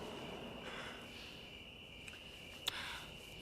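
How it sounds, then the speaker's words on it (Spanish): A faint, steady cricket chirp hums through quiet night ambience in a film scene, with a couple of soft clicks near the end. "usando solo sonidos de grillos y la respiración de su joven personaje"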